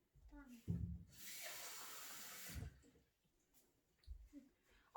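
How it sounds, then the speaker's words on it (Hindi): Water gushes into a container in a home kitchen while making ladoos, a loud splashing burst lasting about a second and a half, with talking before and after it. "ओके, सो अभी हम एक कंटेनर लेंगे और उसमें लेंगे थोड़ा सा पानी।"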